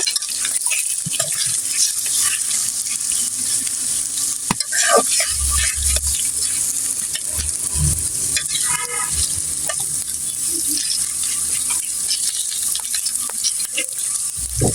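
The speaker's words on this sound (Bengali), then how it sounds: "এদিকে পেঁয়াজগুলো নাড়াচাড়া দিয়ে নিব।" Chopped onions stirred as they fry in a pan, with a constant bright sizzle under repeated scraping and clattering from the spoon, plus a few low knocks, close and steady with no talking.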